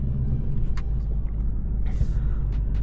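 A car passes nearby on a road with a steady low rumble throughout and a brief hissing swell midway as it goes by.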